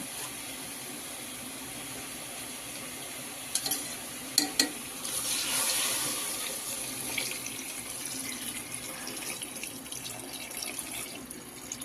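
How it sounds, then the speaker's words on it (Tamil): Water from soaking rice poured into a cooking pot of mushroom pulao, a faint splash and pouring gush after a couple of light clinks, over quiet room noise. "அந்த தண்ணி ஊற்றிக்கலாம்."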